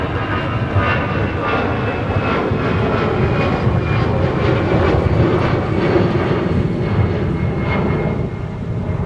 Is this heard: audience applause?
no